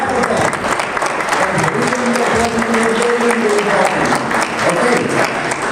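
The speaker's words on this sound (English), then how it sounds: "all the young people should begin to clap for them" Dense applause from a conference audience fills the space steadily throughout, loud and close, with voices faintly underneath.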